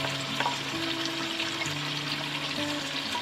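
Tomatoes and mutton fry in a pan for Peshawari namkeen gosht as green chilies go in, giving a steady close sizzle with light stirring scrapes throughout.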